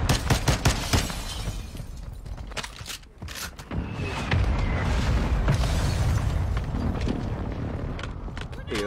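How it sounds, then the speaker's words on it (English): Airstrike explosions in a video game battle: repeated booming blasts and bursts with sustained rumbling debris, loud and close, mixed with scattered gunfire pops and a player talking over it. "I've got an airstrike on me."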